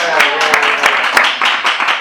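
Applause from an audience welcoming a speaker at a London rock photography talk: dense, steady clapping that fills the moment, with a few sharper individual claps standing out and voices mixed into the crowd.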